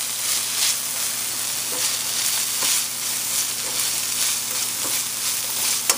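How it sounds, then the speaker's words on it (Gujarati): Ginger stirred in a hot pan with onion, hissing in a steady sizzle of frying, with soft spoon scrapes now and then and no voices. "એને આપણે જરાક હલાવશું કે આદું જરાક ફાઇન આમ એની સુગંધ નીકળે આદુની."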